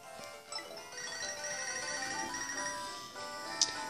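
A phone rings in the Pokémon SoulSilver video game, a steady electronic chiptune ringtone that repeats through the whole stretch, alone and without talk, ending in a brief sharp blip.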